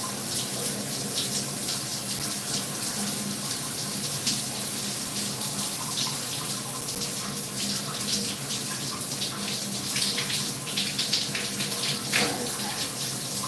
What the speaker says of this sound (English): so now I turned on the shower